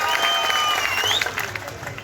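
An audience claps to welcome guests, a dense patter of applause with a sustained tone and some voices in the background, fairly near.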